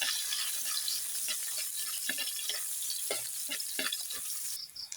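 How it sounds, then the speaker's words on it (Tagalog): Garlic and onion are stirred in a frying pan with a soft background sizzle, while a spatula scrapes and clicks against the metal in irregular strokes close to the listener. "Lagay na rin natin yung ating bawang. Yung ating sibuyas. Haluhaluin lang natin konti mga lods."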